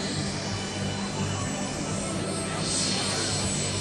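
A model Cessna airplane lands with its flaps set at an airfield model flying show in Hohenems, giving a steady, fairly loud engine drone with broadband noise that swells slightly toward the end.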